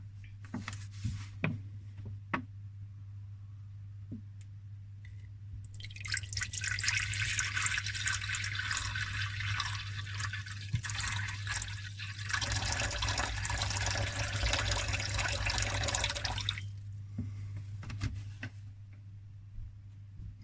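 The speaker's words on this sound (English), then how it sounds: "we're just going to fill this water dish up here" Water pours steadily into a small water dish for a snake enclosure for several seconds, a bright splashing rush between quiet drips and a low background hum.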